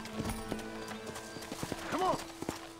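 A horse's hooves clip-clop at an unhurried, uneven pace in the Western video game Red Dead Redemption, with a short whinny midway and someone talking over it.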